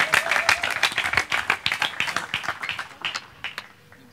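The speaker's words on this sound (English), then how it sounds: "let's welcome to the stage with a loud round of applause, Mr. Ahmad Al Harthy" An audience applauds as champion racing driver Ahmad Al Harthy is welcomed onto a stage, with dense, steady hand claps that gradually thin out and fade toward the end.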